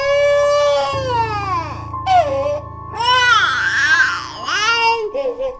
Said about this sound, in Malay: Terdengar bunyi budak menangis.